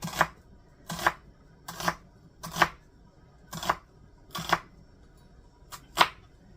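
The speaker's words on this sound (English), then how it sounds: "So I'm going to chop this up all real nice and fine." A knife chops an onion on a cutting board in eight crisp, evenly spaced strokes, close and clear with near silence between them.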